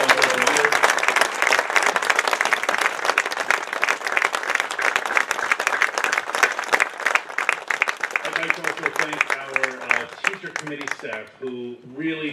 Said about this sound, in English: I would love for you to all give our Student Assembly here a wonderful round of applause